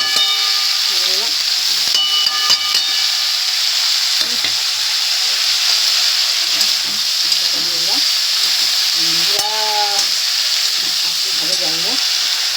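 Spices and turmeric sizzle steadily in a hot pan, a loud continuous frying hiss, while a person talks intermittently over it.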